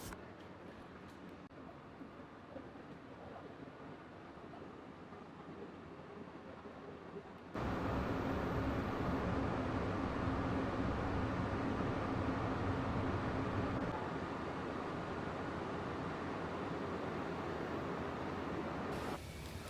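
A steady, dense rumble inside a moving airport train, quieter at first, then jumping to a louder continuous roar that holds steadily.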